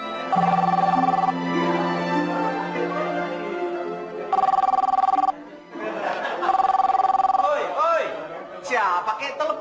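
A telephone bell rings in repeated bursts with pauses between them, loud and near, inside a home during Lebaran, while people talk and chatter in the background.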